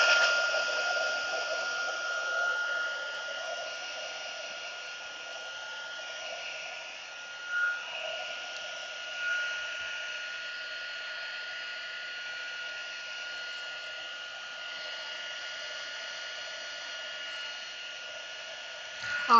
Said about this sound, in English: I'm going to take a shot and do the heat tool on it.